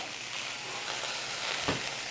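Water droplets sizzling and skittering on preheated All-Clad stainless frying pans, a Tri-Ply and a D5, giving a continuous close hiss with a brief louder crackle near the end.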